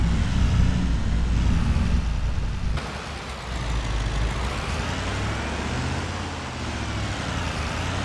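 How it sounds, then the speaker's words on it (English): Steady rumble of a truck idling and creeping along while pulling a trailer around to park it, with a brief hiss partway through and a continuous low engine drone. "I can just pull it around here and park the trailer"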